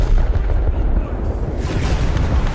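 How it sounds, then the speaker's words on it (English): Warship main cannons firing in the War Thunder naval battle game: a dense, continuous barrage of loud, heavy booming blasts that blur together into a sustained rumble lasting the whole stretch. "Our main cannons."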